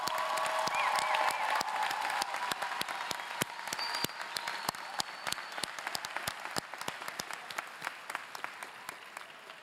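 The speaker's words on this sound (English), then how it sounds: "Could we have one more round of applause for the graduates?" Graduates at Guttman Community College's 2018 commencement receive sustained applause from a large crowd, dense clapping that gradually thins and fades, with faint cheering early on.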